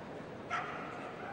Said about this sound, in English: That's the Pyrenean Mountain Dog.